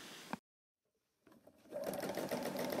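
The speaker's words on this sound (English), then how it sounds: "Start by sewing the first line." A sewing machine stitches a straight line with a cable-pattern ruler, starting with a brief burst, falling silent, then running steadily with a close, even mechanical whir and rapid needle ticking.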